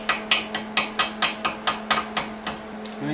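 A hammer strikes a tie rod cotter pin on a Toyota Avalon suspension, about a dozen sharp metallic blows at a quick, even rhythm, close and loud, with a faint steady hum underneath.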